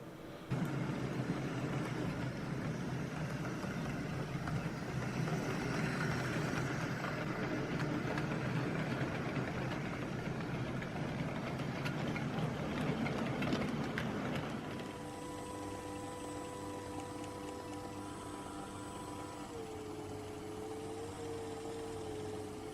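A Hornby S15 model locomotive fitted with a replacement motor runs with a steady whirring motor drone and wheel rattle that fades, leaving a quieter hum with a thin high whine.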